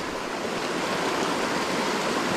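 A creek in northern British Columbia flows steadily, a close, continuous rushing of water with no voices.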